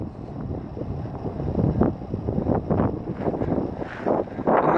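Park Zone Spitfire RC model plane flying in gusty wind, a steady droning buzz under heavy rumbling wind buffeting on the microphone, fairly loud and continuous.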